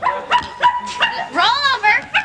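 A person imitates a puppy with a string of short, loud, high yips and barks, close up, followed by a longer whining yelp, at a school theatre cast gathering.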